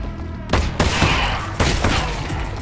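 Rapid gunfire crackles in Half-Life Alyx, a series of close, loud bursts with sharp attacks at roughly regular intervals, layered over dense continuous noise throughout.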